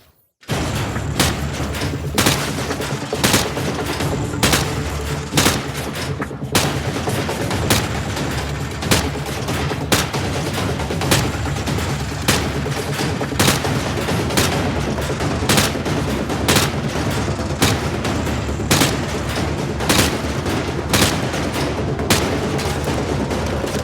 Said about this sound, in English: Go to Station Street and aim your rifle downrange.